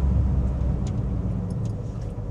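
Low, steady engine rumble and road noise inside a repaired Renault Twingo cruising at about 80 km/h, a continuous hum with a few faint high clicks and no speech.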